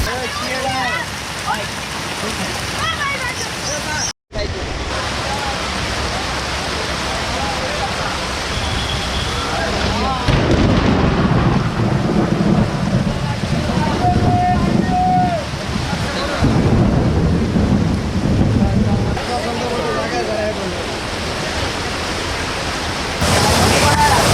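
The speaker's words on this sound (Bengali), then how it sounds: "ধুমসে বৃষ্টি নেমে গেল" Heavy downpour near the Lohagara Math in Chandpur, a dense roaring wash of rain that swells louder midway, with talk now and then underneath.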